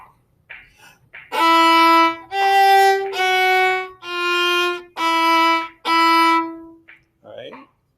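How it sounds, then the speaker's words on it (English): String orchestra bowing a chromatic descending scale by half steps, six sustained notes stepping downward in a steady rhythm, played alone between brief faint sounds. "we have a chromatic descending scale on the second beat of 15 going down to 16 by half steps."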